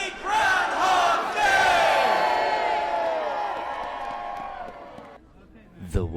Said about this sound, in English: Raise your hands in the air and scream with me